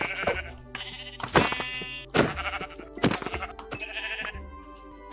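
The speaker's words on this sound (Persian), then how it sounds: "میریم سراغ گوسفندا" Sheep bleating in the Minecraft video game on a flat hardcore world, several loud, near, wavering bleats in quick succession with short gaps, no talking.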